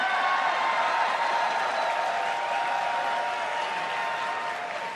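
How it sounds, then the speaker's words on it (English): Audience applause at Blizzcon, a steady dense wash of clapping from a large convention crowd that holds strong for the full stretch and eases off only slightly toward the end. "He got louder claps than you did."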